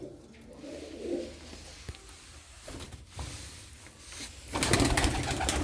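Ankara tumbler pigeons kept in a loft coo softly and intermittently at moderate distance, with faint rustling between calls and a louder, busier flurry near the end.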